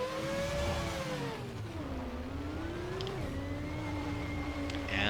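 Car engine in the Assetto Corsa racing game pulling away in first gear, a steady mid-pitched drone that rises, dips briefly at a shift point, then climbs again, heard alone without talk.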